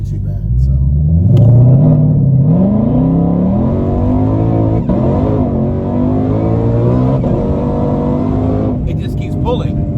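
A 2020 Shelby GT500 accelerates hard from 0 to 100, its loud engine roar climbing steadily in pitch through the gears as it keeps pulling, heard close from inside with voices talking over it.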